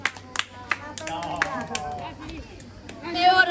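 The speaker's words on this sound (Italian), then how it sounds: "Un applauso" Applause from a small group at a ping pong tournament prize ceremony, a burst of sharp irregular claps with chatter and talk running underneath throughout.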